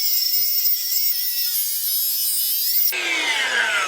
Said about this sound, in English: Now we just got to make our cut long ways here and get this chunk out